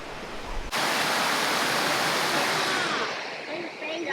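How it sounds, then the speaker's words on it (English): A waterfall in Taiwan roars as a dense, steady rush of falling water, loud and close, starting abruptly after a brief moment and continuing unbroken to the end. "We're at a waterfall right now."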